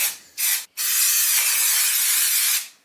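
An aerosol can hisses in short bursts: two quick sprays, a brief pause, then one long steady spray up close before cutting off.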